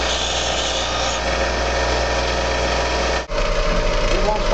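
A bench grinder grinds a piece of hardened file steel in a blacksmith's shop, giving a loud, steady rasping whine that cuts out briefly near the end and then resumes.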